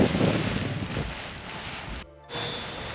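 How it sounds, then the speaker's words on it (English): Breezy outdoor wind on a blustery day at a paragliding field buffets the microphone with steady rushing noise, briefly dropping out near the end before returning. "Nice and breezy."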